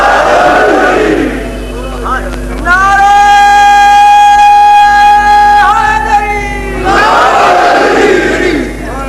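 Crowd at a religious majlis gathering chanting a slogan in loud, unified bursts, a sustained chorus of many voices rising together between stretches of noisy crowd sound, close and strong throughout.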